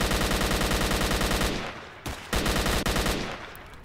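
Sustained automatic rifle fire from S.T.A.L.K.E.R.: Shadow of Chernobyl, loud, dense rapid bursts that break off briefly and resume, with trailing reverb.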